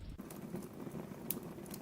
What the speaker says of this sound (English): It sounds like it's raining outside.